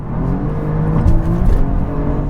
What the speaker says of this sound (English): The exhaust valves open and you're able to hear more of that V6.